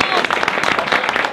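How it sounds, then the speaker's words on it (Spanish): Loud, close audience applause greets award winners at a Cádiz carnival street chirigota, dense vigorous clapping from a crowd with voices mixed in. "Fuerte aplauso, por favor."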